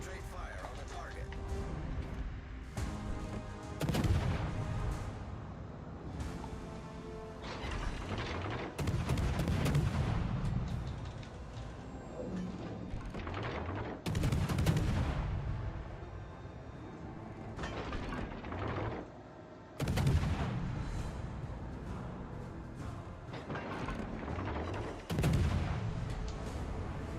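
Heavy warship batteries boom again and again in World of Warships Legends, with an Italian Andrea Doria battleship among the ships. Big, loud salvos land every few seconds over steady battle noise, and a voice talks through much of it.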